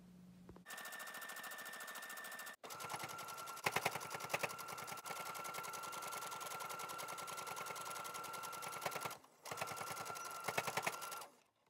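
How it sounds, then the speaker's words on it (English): A sewing machine stitches the strap of a fabric face mask in fast, steady mechanical bursts with a whining motor, pausing briefly twice, loud and close with no talk. "sew your strap end to the other end"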